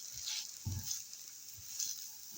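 Carrot and onion fry in a pan with a soft, steady sizzle, broken by a few faint scrapes and stirring clatters.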